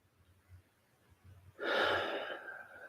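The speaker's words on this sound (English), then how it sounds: "just take a few nice deep inhales and exhales" A person in a guided meditation takes a slow, deep breath, a soft airy inhale and exhale rising midway and lingering near and moderately loud over a quiet background with no talk.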